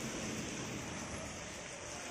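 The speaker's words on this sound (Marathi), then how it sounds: "सकाळीच आळेफाटा येथे पावसाला थोडीशी सुरुवात" Light rain beginning to fall in the morning at an Alephata produce market shed, a steady, dense hiss of drops that stays even and close throughout.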